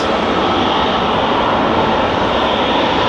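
An airliner flies past at Amsterdam Schiphol Airport, its loud, unbroken jet roar filling every moment without any voices.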